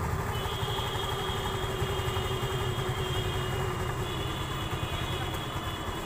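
A TVS Jupiter scooter engine idling while its RPM is adjusted, a steady close mechanical hum and putter with a faint high whine, running evenly without speech.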